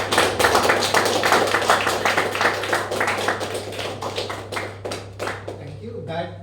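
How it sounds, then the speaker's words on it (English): A room of people at a speakers' forum meeting breaks into a sustained round of applause, dense steady clapping that fills the space, holds for several seconds, then tapers off toward the end. "I want the audience to give a standing ovation, and with a round of applause"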